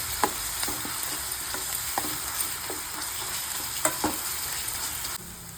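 Ginger paste fries in oil for an aloo cauliflower curry, giving a soft continuous sizzle with several sharp spoon taps and scrapes against the pan, quiet and without speech.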